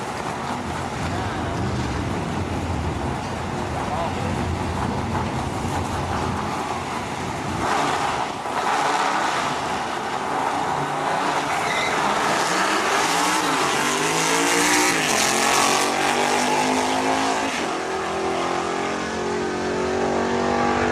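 A Ford Mustang Boss 302 drag racing, its loud engine roaring continuously and revving up hard through the run, with a rising pitch sweep as it accelerates away amid track noise.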